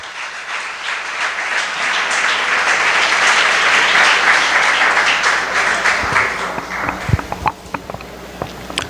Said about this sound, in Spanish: dale un aplauso al Señor en esta noche